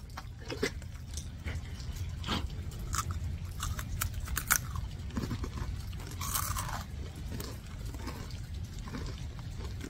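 Mexican street corn flavored Cheetos being bitten and chewed up close, a steady run of crisp crunches and mouth noises with no talking.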